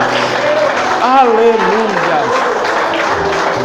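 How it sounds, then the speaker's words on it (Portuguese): A church congregation applauds in a steady broadband patter, heard beneath a loud, emphatic voice shouting praise over the crowd. "Pode aplaudir bem forte, pode glorificar"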